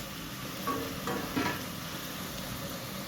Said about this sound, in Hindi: अब हम इसमें थोड़ा सा जीरा, गरम मसाला और लौंग और दालचीनी इसमें ऐड करते हैं